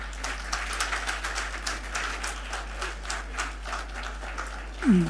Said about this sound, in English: And big round of applause to her, please.